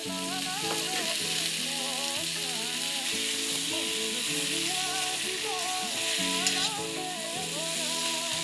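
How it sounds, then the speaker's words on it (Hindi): Chopped tomato fries in a pan for a Assamese-style pork and black lentil dish, giving a dense, constant sizzle up close. Occasional stirring scrapes cut through it, and no one speaks. "अब हम इसमें एक टमाटर काट के डाल देंगे और इसे थोड़ी देर तक फ्राई कर लेंगे"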